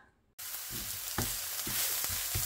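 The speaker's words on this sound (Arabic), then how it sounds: "هنا ندير هاد البصله وغنخليها تشحر" Onion dropped into hot oil in a pan for a meat lasagna: after a brief quiet, a sudden loud sizzle bursts in and holds steady, broken by a few soft stirring knocks.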